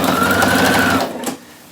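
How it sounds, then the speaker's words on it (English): A sewing machine stitches across the corner of a shirt, a steady close whirring hum for about a second that then slows and stops, leaving a faint click. "we're just going to sew across the corner without catching"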